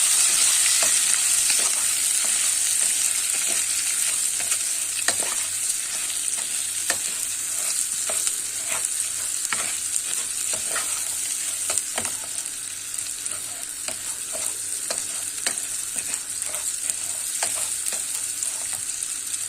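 Bulgur and vermicelli toast in oil in a pan, giving a steady loud sizzle throughout, broken by frequent scraping clicks from stirring, close up with no voices.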